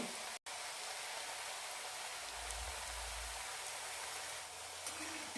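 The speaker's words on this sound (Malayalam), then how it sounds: "മീഡിയം ഫ്ലെയിമിലിട്ട് വറുത്തെടുക്കാം" Semolina murukku fry in oil over a medium flame with a continuous, even, bubbling hiss, close and steady, broken only by a brief dropout near the start.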